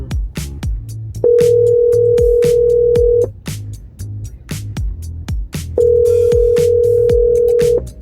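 Two long steady ringback tones sound while a call is placed to an iPhone from a car, separated by a pause, loud and clear over soft rhythmic background music.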